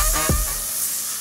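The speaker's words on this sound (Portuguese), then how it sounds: "Vou aquecer a panela, vou entrar com o bacon. Vou esperar o bacon fritar rapidinho" Bacon frying in a hot pan for a corn and bacon risotto, a loud close steady sizzle and hiss throughout with no talking.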